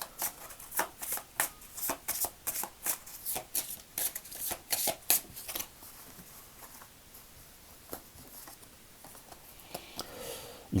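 Gaia oracle cards being shuffled by hand, a brisk run of crisp riffling slaps in close succession, then softer sliding and rustling of the deck near the end.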